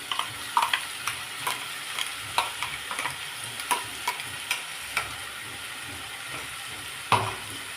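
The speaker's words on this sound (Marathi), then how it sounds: "यामध्ये जर आपण वाटण केलेलं ते घालून घेऊया" Chicken sizzles and is stir-fried in a pan with a ground masala paste of dry coconut, onion and byadgi chilli; a steady frying hiss runs under regular spatula scrapes and taps, close by, with no talking.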